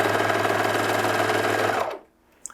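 A sewing machine runs at a steady fast clip, stitching around an inseam pocket for about two seconds before stopping abruptly, leaving near silence and a faint small knock.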